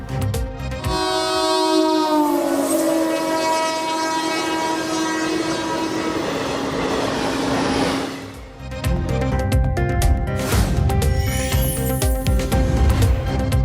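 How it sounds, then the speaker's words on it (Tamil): A train horn sounds loudly, then a train on a high-speed trial run between Karaikal and Peralam rushes past close by at 90 to 120 km/h with rumbling wheels and clattering cars, followed by a second horn blast. "காரைக்கால் பேரளம் இடையேயான இறுதிக்கட்ட அதிவேக ரயில் சோதனை வெற்றி"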